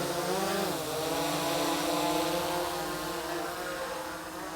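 A small drone hovers and flies around a back garden, its rotors giving a steady, fairly loud whine with layered harmonic tones that dip briefly in pitch as it moves, with no talking over it.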